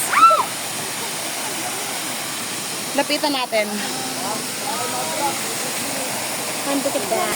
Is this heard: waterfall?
yes